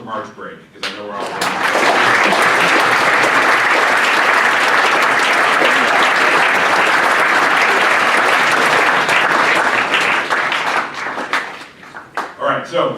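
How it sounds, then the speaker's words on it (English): An audience at a school winter athletics assembly breaks into a loud, steady round of applause that swells quickly, holds, and then tapers off into scattered claps. "One more round of applause for March break,"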